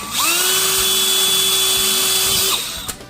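A power drill drilling into a Ski-Doo MXZ XRS 850 Turbo snowmobile track for studding whines steadily at high speed for over two seconds, then spins down and stops, with a faint clunk at the end.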